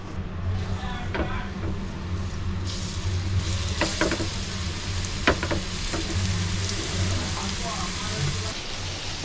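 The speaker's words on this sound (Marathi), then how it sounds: "सर्व मच्छी बघा टाकून घेतले तेलामध्ये" Flour-coated pieces of shark fish sizzle steadily in hot oil in a pan, a continuous crackling fry with a low hum underneath and scattered sharper pops, fairly close and even in loudness.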